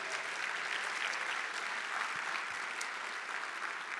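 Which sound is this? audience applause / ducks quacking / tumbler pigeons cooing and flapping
audience applause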